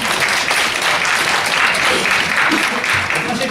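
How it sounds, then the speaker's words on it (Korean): Conference attendees at a security seminar give loud, even applause, a thick wash of many hands clapping throughout with a faint voice briefly beneath it. "박수 한번 쳐주세요."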